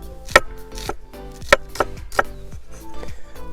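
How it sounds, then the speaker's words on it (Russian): A knife thinly slices a red onion on a cutting board for a lamb shashlik marinade, giving several sharp, separate chops at an uneven pace, close and fairly clear over a faint low hum, with no talking. "И нарезаем вот такой вот лук потоньше."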